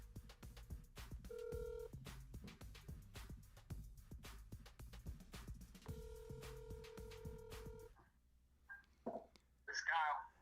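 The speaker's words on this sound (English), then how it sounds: "We're dialing up Kyle." Telephone keypad dialing tones on a live call-in fantasy football show, a string of paired-tone beeps over a steady backing music bed, followed by a brief pause and then a voice.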